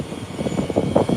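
An American Airlines Airbus A319 touching down on the runway at Howard Hamilton International Airport, the tires smoking on contact: a steady, fairly loud rumble of engine roar and rolling friction with no voices.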